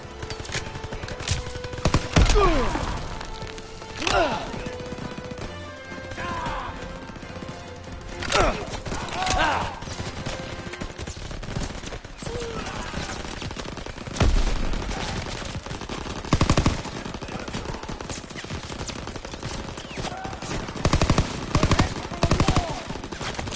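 Gunfire in Call of Duty WW2: repeated bursts of rifle and machine-gun fire crack out in loud clusters across the whole stretch, with other battle noises in between and occasional voices.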